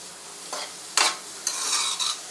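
Carrot, beans and capsicum stir-fried in oil for chicken fried rice: a few quick scraping stirs of a spatula through the vegetables, close and fairly loud, over a soft sizzle with no talking.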